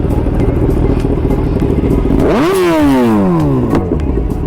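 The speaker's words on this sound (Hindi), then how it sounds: "ये कर दी देखो हर्ष ने अपनी बाइक स्टार्ट।" A sportbike engine fires up close by, its revs sweeping sharply up and then falling away in a loud, harmonic roar with crackle, over a steady background engine drone.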